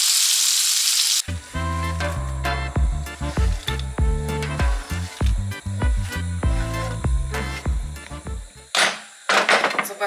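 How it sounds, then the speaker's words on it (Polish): Chicken liver frying in a pan, loud steady sizzling broken by repeated sharp pops and spatters, close up with no talking. "umyłam wątróbeczkę i osuszyłam, i tak na patelni strzela"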